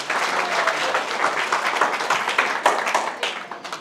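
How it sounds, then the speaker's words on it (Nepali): An audience claps together at a church gathering, a dense, steady burst of applause that stays loud and close throughout with no talking over it. "ल यो बाबुलाई ताली बजाइदिउँ"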